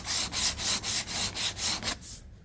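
Rhythmic back-and-forth strokes of a sanding block smoothing and cutting in the edge line on a car's rear quarter panel, about eight even passes, close and fairly loud, ending abruptly.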